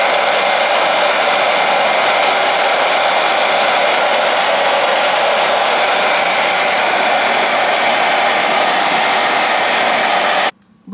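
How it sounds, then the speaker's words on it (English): A hair dryer blows on a long blonde balayage lace front wig, a loud, steady close whoosh of motor and airflow that runs unbroken for about ten seconds before cutting off abruptly. "before I actually blow dry"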